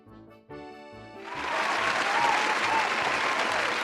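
A streaming audience breaks into cheering and applause that swells after a brief musical sting, then holds as a loud, dense wall of clapping and crowd noise over a steady low rhythmic pulse.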